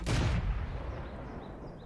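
A single heavy tank gun shot fired at a Panzer IV in World of Tanks, a loud booming blast that quickly fades into a low rumbling tail.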